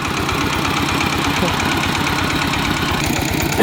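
A Thai walking tractor engine idles nearby with a steady, loud, rapid knocking chug that continues without change throughout.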